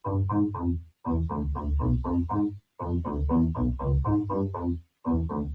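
A compressed synthesizer bass line in Ableton, playing alone as a loud, punchy riff of repeated short notes in phrased bursts separated by brief gaps.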